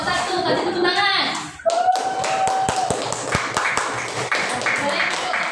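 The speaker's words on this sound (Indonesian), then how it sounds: "Kasih tepuk tangan." Children in an Indonesian classroom break into rhythmic clapping after a group's quiz score is announced, the claps close and sharp, with voices of kids and a teacher talking over them and one drawn-out vocal call.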